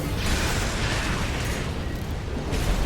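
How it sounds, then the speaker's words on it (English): Long-range artillery shells pound the area in the mech game Armored Core 6, a continuous roar of heavy, overlapping explosions, loud and close, with no pause between blasts. "We're just getting constantly bombarded"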